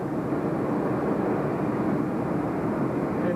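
A tow plane pulls a glider over Mt. Washington, heard as a steady, loud broadband engine and wind drone that stays constant throughout without variation.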